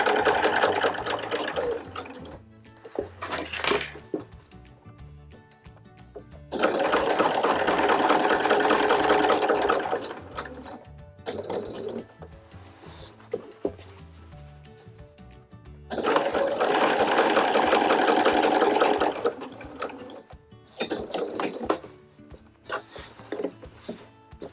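Sewing machine quilting parallel seams across joined patchwork fabric squares for a zip pouch, two long steady runs with quieter handling sounds between, close and loud.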